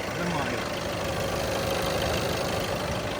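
A 2016 Seat Leon engine idles steadily and evenly, a constant close hum with no breaks or changes, while someone talks over it.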